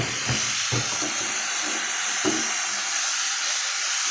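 Ginger garlic paste fries in a pan with a steady, close hissing sizzle, broken by a few soft knocks of stirring early on.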